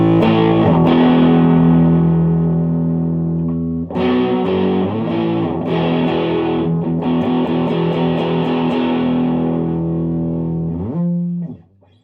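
Loud, sustained tube-amp guitar distortion with a heavy low end, thick harmonic chords ringing continuously with brief breaks near four seconds and the end, no voices.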